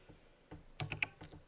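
Quiet, close typing on a computer keyboard, a short run of light key clicks with a couple of sharper taps near the end.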